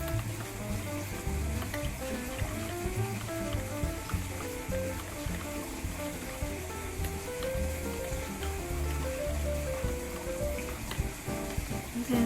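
Bánh tiêu doughnut ingredients being mixed in a bowl give a steady stirring, swishing, liquidy texture, continuous and close, with background music playing throughout.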